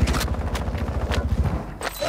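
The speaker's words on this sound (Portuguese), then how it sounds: "Um tiro." Rapid gunfire crackles in the Warzone video game, a tight burst of repeated shots over about one and a half seconds before stopping, with a faint extra sound after it.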